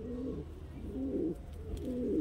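A Chokher Madrasi pigeon coos nearby, a low, throaty call repeated about three times in a soft rolling rhythm over faint background hiss.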